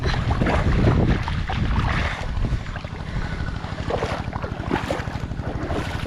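Water pump engine draining a fish pond, a steady droning motor hum running throughout under heavy wind buffeting on the microphone, with no speech.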